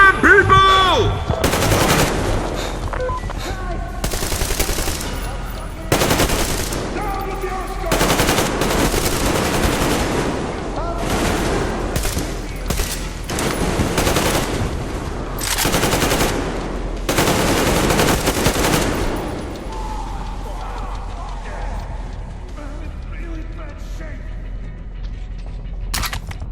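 Heavy gunfire in the Metro Exodus game finale, The Two Colonels, with repeated loud bursts of automatic fire separated by short pauses, shouted voices among them, fading to quieter scattered sounds near the end.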